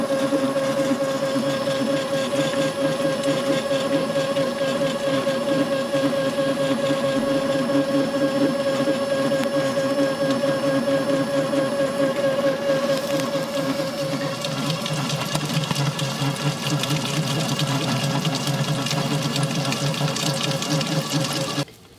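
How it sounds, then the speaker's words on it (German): An electric mixer whirs steadily and continuously as it whips cream toward stiff peaks, a constant mechanical hum with a shift in tone partway through, no talking. "Das Ganze machen wir, bis sich in der Sahne schöne Spitzen bilden."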